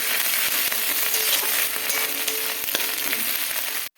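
Ginger paste sizzles steadily in hot oil for a Bengali vegetarian cabbage ghonto, with a dense, even crackle and a few scraping stirs before it cuts off abruptly near the end.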